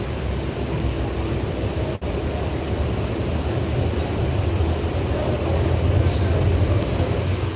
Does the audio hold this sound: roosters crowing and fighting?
no